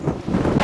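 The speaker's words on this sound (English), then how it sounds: "It's very, very windy at the moment." Strong gusting wind buffets the microphone on the open sun deck of the Carnival Elation cruise ship, a loud, rough roar that swells and dips over less than a second with no voices.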